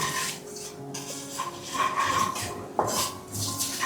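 A spoon scrapes and clinks around a pan as sesame seeds go into upma on the stove, with several distinct metallic taps and scrapes, close and moderately loud, and no talking.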